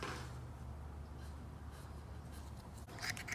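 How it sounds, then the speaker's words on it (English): Pencil or marker scratching across a shower wall panel while a cut line is marked on both sides of a stud inside a Sprinter van, a faint steady scraping over a low hum that ends with a brighter stroke. "So I'm marking it where I need a cut on both sides of the stud."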